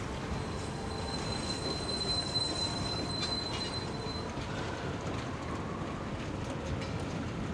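Steady rumble of a train riding on rails in the Half-Life area Black Mesa East, with wheels squealing high above the constant roll, continuous and close with no talking.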